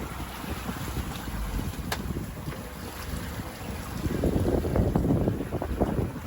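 Wind buffets the microphone aboard a sailboat at sea, a steady rumbling gust that swells louder toward the end, with faint water wash underneath.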